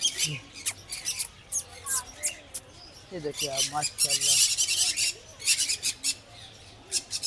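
Harsh parrot squawks and screeches burst out repeatedly amid a noisy walk-through aviary crowd at Lake View Park, Islamabad, with people talking nearby over the calls.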